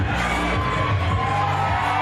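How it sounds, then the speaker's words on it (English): A lively crowd at a wrestling show at the Bierstadt cheers and roars, a steady dense wash of voices filling the hall throughout. "this lively crowd here at the Bierstadt on their feet, ready for an action-packed night of Charged"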